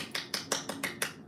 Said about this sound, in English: let me clap my hands for you now, man